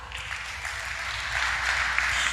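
A church congregation bursts into steady applause, a dense, even wash of many hands clapping that holds without a break, with no voices over it.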